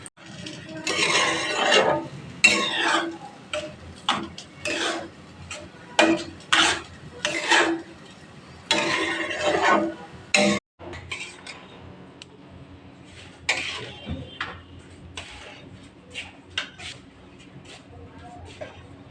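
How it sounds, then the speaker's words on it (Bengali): Semolina and ghee are stirred in a pan with a spoon in repeated rasping scrapes, close and fairly loud in an uneven rhythm, with quieter clinks and shuffles after a short pause. "একটু ঘি দিলাম, সুজি দিলাম, দিয়ে নাড়তে থাকলাম"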